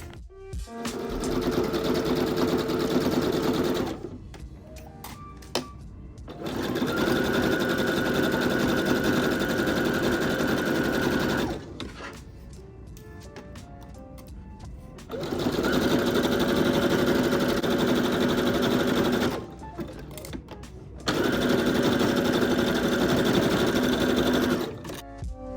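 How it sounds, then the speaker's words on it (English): A sewing machine stitches the shoulder and side seams of a square-neck tank top, running in long steady buzzing stretches broken by brief pauses, close and loud. "Sew together at the shoulder and side seams."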